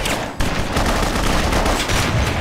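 Rapid gunfire in BloodRayne rattles loud and close, a dense continuous barrage of overlapping shots with a brief dip just before a sharp burst resumes the volley.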